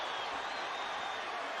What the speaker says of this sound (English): The crowd is going nuts, as you can imagine.